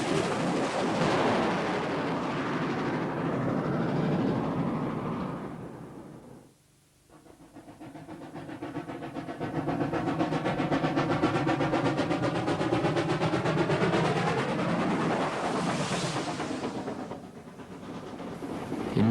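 South African steam locomotive No. 1535, a Reef Steamers engine, running with a loud, steady rumble and hiss that briefly dips midway before surging back, chuffing and whistle-like tones rising over the continuous roar.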